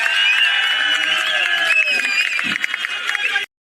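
A large political rally crowd roars with cheering and shouts to welcome Sanjay Singh, loud and sustained with scattered clapping beneath the voices before it cuts off abruptly.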